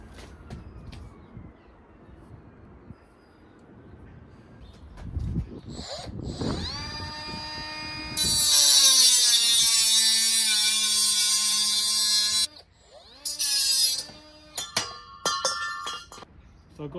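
A saw fitted with a stainless-steel blade cuts a race car's stainless exhaust downpipe, starting with clinks and handling, then a loud, sustained whining, screeching cut that stops abruptly, followed by more metallic knocks and brief bursts.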